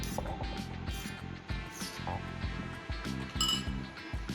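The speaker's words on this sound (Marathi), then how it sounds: "आता या बॅटरवर आपण झाकण ठेवणार आहोत" A lid is set over a bowl of mango semolina cake batter, producing a series of close, sharp clinks and knocks with small scrapes between them.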